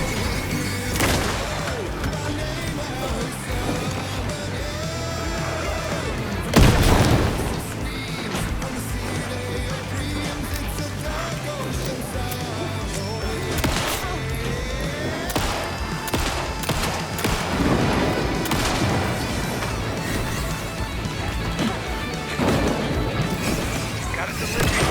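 A rocket flare bursts with a loud crash and boom during Alan Wake 2 gameplay, a sharp blast near seven seconds standing out from a dense bed of game music and effects.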